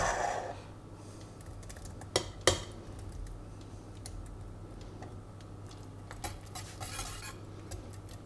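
Scallops being added to hot béchamel in a pan on low heat: faint clinks of a utensil against the pan, two sharper taps near the middle, and soft stirring throughout, with no talking.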